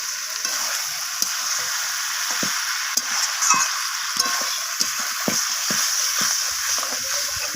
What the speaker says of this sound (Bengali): তো সব কিছু মশলা এইভাবে কষাতে থাকবো